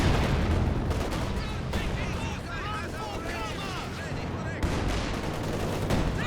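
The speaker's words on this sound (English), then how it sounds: "Oh, ooh, big Zis barrage." A ZiS gun artillery barrage strikes in a Company of Heroes 2 1v1 match, with repeated booming impacts and rumbling explosions overlapping one another. A commentator talks excitedly over the shelling throughout.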